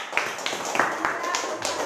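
Classroom clapping for the orange group of students during a lesson, a handful of scattered hand claps with an ongoing murmur of voices.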